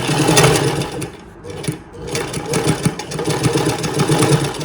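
A sewing machine runs steadily while stitching a saree into an anarkali with a frill. It makes a continuous mid-level motor whir and needle chatter that pauses briefly, with no talking over it.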